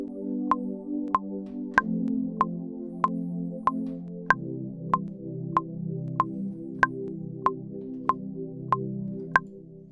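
The closing four bars of a 12-bar blues, V-IV-I-I, produced in a music tech project, play as a steady chordal loop under a bright ticking click on every beat, with the harmony shifting partway through and no voices.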